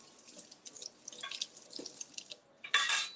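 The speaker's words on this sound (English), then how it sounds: "Let me rinse off." Water drips and splashes in a kitchen sink during a quick rinse, with scattered light taps and trickles and a louder burst of running water near the end.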